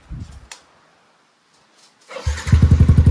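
Yamaha Sniper 155 motorcycle fitted with a TRC power exhaust pipe: after a few faint clicks and near-silence, the engine fires up and revs loudly in rapid pulsing bursts close by.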